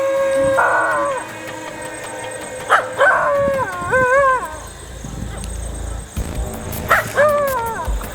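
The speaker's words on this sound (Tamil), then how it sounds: "இந்த ஆற்றை சுற்றி சுற்றி ஃபுல்லாக நாய் தான் இருக்குது" Several dogs by a river at night howl with wavering, rising and falling cries, mixed with short barks and yips, fairly close and repeated in bursts.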